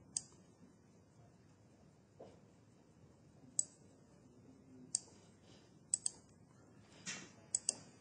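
Sparse clicks of keys being pressed on a computer keyboard while entering a command on a DART-6UL evaluation kit, a few isolated taps then a quick cluster near the end, close and quiet over a low background hum.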